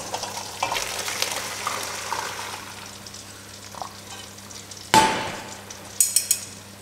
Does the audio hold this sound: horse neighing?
no